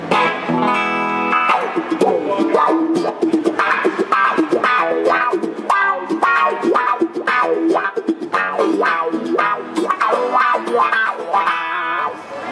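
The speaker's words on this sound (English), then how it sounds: "Got my G&L telly with the little Marshall combo back there." Clean G&L Telecaster electric guitar played through a small Marshall combo amp, strummed chords and picked notes ringing steadily and fairly loud, with no talking.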